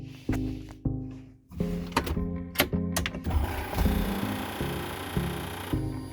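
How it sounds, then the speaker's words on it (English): A boost controller in a turbo LS-swapped FC RX7 clicks and buzzes as the key turns on, with a run of sharp mechanical ticks and thunks that settle into a steady electrical hum. "you can hear my boost controller when I click the key on"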